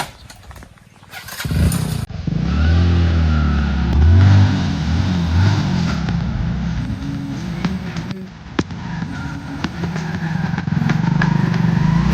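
A motorcycle is kicked into life with a sputtering start, then its engine settles into a close, loud, steady running note that rises and falls as the bike is revved and ridden off.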